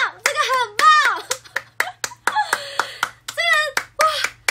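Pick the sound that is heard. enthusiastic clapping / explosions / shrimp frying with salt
enthusiastic clapping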